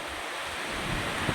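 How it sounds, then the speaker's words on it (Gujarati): Strong, storm-like wind gusts through rainy weather in Moti Gop, Gujarat, making a steady, loud, broadband roar that swells slightly toward the end, with no voices. "વાવાઝોડા જેવો પવન છે, જોઈ લ્યો।"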